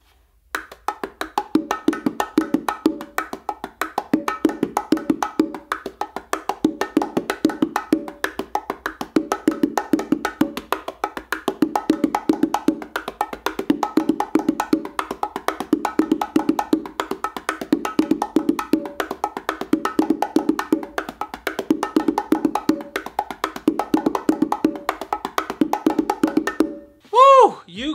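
Bongo drums played in a fast, dense, continuous stream of close hand strokes for nearly half a minute, ending in a brief pause and a few final sounds.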